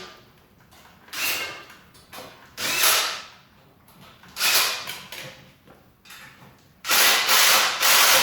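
A power tool cinching down bellhousing bolts during a QuickTime Performance bellhousing install, several short bursts of whirring and grinding separated by pauses, the last burst longest and loudest.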